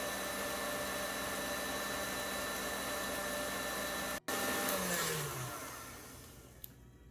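Electric mixer whipping cream for mason jar vanilla ice cream, a steady close motor whir that cuts out for an instant, restarts, then winds down in pitch and fades.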